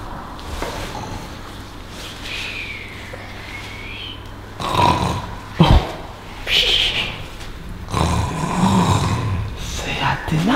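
Snoring at night in a house, a low rasping snore rising in a few uneven bursts over a faint steady hum, fairly close and moderately loud, with no talk.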